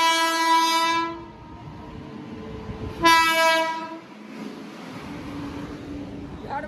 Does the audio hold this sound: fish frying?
no